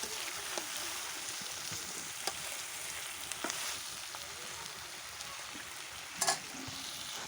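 Duck meat with mixed vegetables fries in a pan while being stirred, giving a soft, steady sizzle with occasional scraping clicks from the spoon and no voices.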